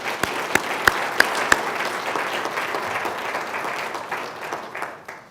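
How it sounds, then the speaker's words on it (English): An audience at an academic research center presentation gives a round of applause, a steady wash of clapping with a few sharp nearby claps standing out early, tapering off at the end. "So let's give them all a round of applause."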